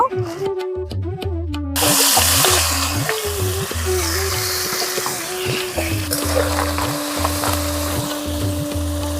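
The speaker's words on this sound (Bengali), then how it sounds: "তো কাঁকড়াগুলো প্রথমে ভেজে নেব।" Small crabs fry in hot oil in a pan with a steady, loud sizzle, while rhythmic stirring clatters repeat throughout and background music plays.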